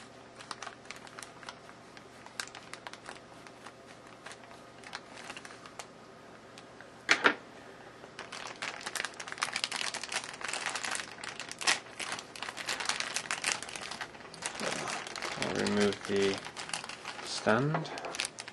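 Scissors cut open a plastic bag holding an anime figure, with crinkling plastic and snipping, faint and irregular across the span, joined by a few brief louder rustles.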